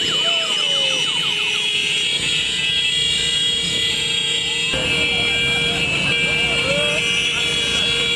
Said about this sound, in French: au rythme du ronronnement des moteurs et des klaxons des Jakartamens